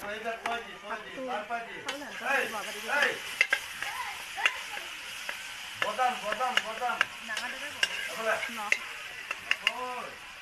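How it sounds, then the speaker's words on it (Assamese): Mustard being fried in a pan at home, giving a soft sizzle mixed with repeated stirring and clinking of a utensil while someone talks over it throughout. "এয়া সৰিয়হটো অলপমান ভাজি ল'ব লাগিব"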